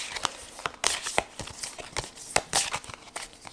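Oracle cards from a Brocéliande deck shuffled and drawn, a run of soft papery flicks and snaps at an irregular rhythm, fairly quiet and close, with faint talk around them.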